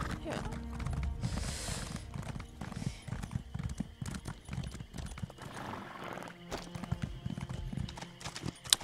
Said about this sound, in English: Get me a horse.